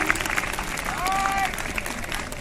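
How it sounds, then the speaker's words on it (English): Children clapping during a school quiz competition on Sikh gurus, a continuous patter of applause from a hall full of students, with a voice speaking over it. "Children, keep on clapping."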